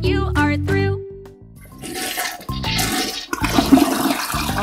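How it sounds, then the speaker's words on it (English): Cartoon toilet flush from the Elmo & Abby Potty Plan toddler game: a loud rushing, gurgling swirl of water that builds after a short musical chime and carries on to the end, with no talking. "It's time to flush."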